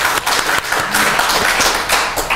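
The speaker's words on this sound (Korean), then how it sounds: "우리 한번 박수 같이 한번 주시죠" An early-morning lecture audience on Korean national religions breaks into dense, sustained clapping that fills a hall, loud and continuous throughout, with no voice over it.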